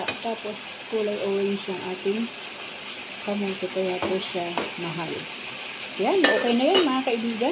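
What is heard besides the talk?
adobo with sweet potato sizzling and being stirred in pan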